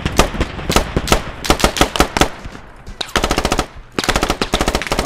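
Rapid machine gun fire in the video game Squad, loud, close bursts of rattling shots with a brief lull before the firing resumes in quick steady rhythm.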